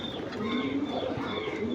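Soft, low cooing from Giribaz high-flyer pigeons, a brief steady murmur of overlapping calls heard at a modest distance.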